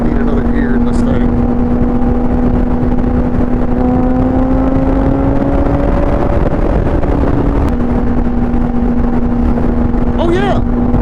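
A 2005 Honda motorcycle engine pulls steadily while riding, a continuous loud drone holding a rising then steady pitch, close and under heavy wind rush, with brief shouting near the end.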